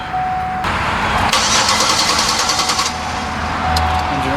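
A GM 3.8 V6 engine cranks over with a rapid, rhythmic churning for a couple of seconds, preceded and followed by a steady mechanical whir, with no voices present.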